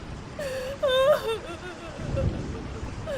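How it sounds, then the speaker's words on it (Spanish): A woman cries in a horror story, with wavering, sobbing wails rising and falling over a couple of seconds against a low, eerie background rumble. "escuché un llanto de una mujer"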